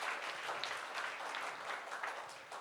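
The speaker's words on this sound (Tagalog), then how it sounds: "Palakpakan po natin ang Panginoon siya" Church congregation applauding, an even, steady wash of many hands clapping, fairly distant and soft, continuing without a break.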